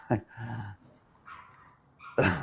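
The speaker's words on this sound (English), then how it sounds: "that's the little yapping dog" A small dog yaps in sharp, high bursts: a quick bark, a whiny series, a softer yip, then another loud yap, fairly close.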